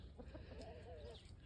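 Farm chickens just let out of their coop cluck softly nearby in a brief, low, faint burst of fowl calls.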